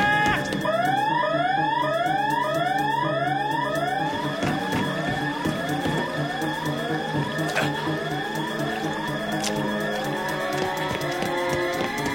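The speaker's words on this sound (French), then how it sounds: "Alerte!" Cartoon alert siren from Totally Spies, rapid repeated rising sweeps over a steady electronic tone, running continuously and fairly loud with a few sharp clicks mixed in.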